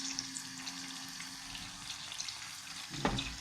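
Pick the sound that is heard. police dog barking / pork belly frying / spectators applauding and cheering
pork belly frying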